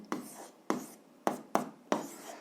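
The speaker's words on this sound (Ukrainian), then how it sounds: "Ну що ж, записуємо відповідь" A pen writes an answer by hand on paper in a quiet room, five short scratchy strokes in an even rhythm, close and soft.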